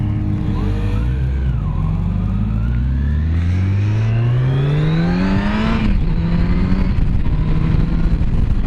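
A Yamaha FJR or FZ-10 motorcycle on a demo day ride, its engine loud and close as it accelerates through a long rising rev, shifts, then pulls on again with wind noise.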